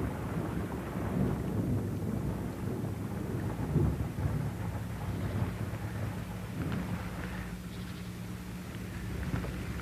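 Heavy raindrops falling on a forest, a soft constant patter and hiss with low rumbling underneath, distant and fairly quiet throughout, with no voices.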